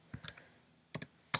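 Typing on a computer keyboard while entering text, a few quick clusters of light clicks separated by short pauses, close and quiet.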